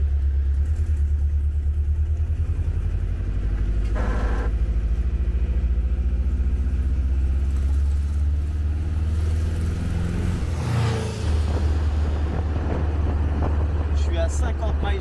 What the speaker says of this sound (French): On a le bruit de ce moteur si particulier qui nous berce.